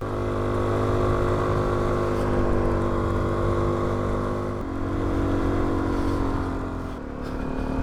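Suzuki DRZ400 E dual-sport motorcycle being ridden, a loud steady single-cylinder engine drone with a brief pitch shift midway, close and continuous with wind noise.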